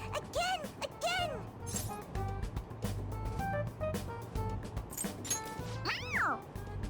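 A toy cat in Persona 5 Royal lets out a single rising-and-falling electronic meow near the end when its head is pressed, preceded by several short chirpy cartoonish cries over a steady game music bed.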